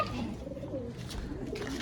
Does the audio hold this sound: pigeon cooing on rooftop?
yes